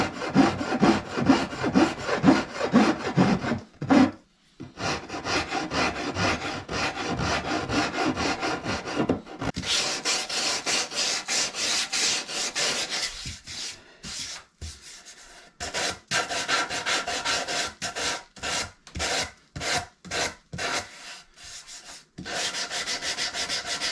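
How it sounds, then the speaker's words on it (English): A carving file shapes a wooden Stratocaster guitar body clamped in a vise, with repeated close, rhythmic rasping strokes and occasional brief pauses throughout. "So we'll get this in the vise and we'll just do this with a carving file"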